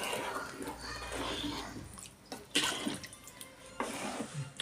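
Rice and water for chicken pulao are stirred together in a pot, giving wet sloshing and splashing in uneven bursts close by, with a voice talking over part of it.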